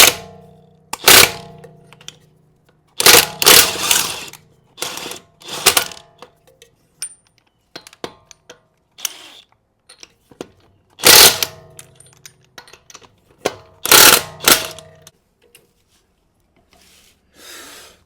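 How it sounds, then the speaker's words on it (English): Lug remover with a 22 mm socket loosening lug nuts on a Lexus LX570: several sharp, loud bursts of rattling mechanical impact spaced by quiet pauses, up close. "lug remover, it needs a 22 millimeter socket first and foremost"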